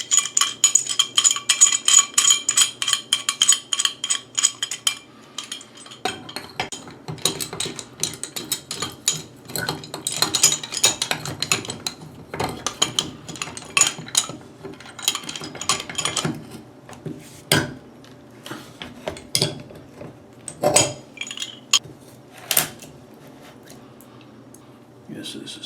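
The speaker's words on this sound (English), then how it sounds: "a pipe wrench will have the most leverage to remove it" Pipe wrench working a badly corroded bathtub faucet spout loose, with repeated metallic clanks, scrapes and ratcheting clicks at close range in a bathroom; a person talks intermittently over the work.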